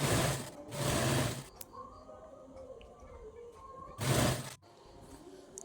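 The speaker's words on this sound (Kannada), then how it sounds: "ಈ ಥರ ಮಾಡಿ ಫುಲ್ ಒಂದು ಟಾಪ್ ಸ್ಟಿಚ್ ಹಾಕ್ಕೊಳ್ಳಿ" A sewing machine top-stitching a blouse, running in two loud sustained bursts of rapid needle whirring, with a quiet stretch of fabric handling and soft clicks between them.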